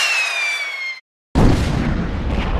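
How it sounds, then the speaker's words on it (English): A rocket fired at a villain on a rooftop in a Mulan story whistles in rising tone, falls briefly silent, then erupts in a loud, roaring explosion that rumbles on. "The force of the explosion sent Mushu and Kriki flying through the air."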